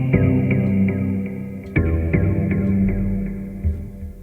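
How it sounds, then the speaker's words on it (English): Echo effect from the AXIS Oblivion cinematic motion engine plugin by Barcode Industries: a few loud, humming synthetic hits, each trailing a series of fading repeats that pile up into a throbbing wash. "So just bring on echo."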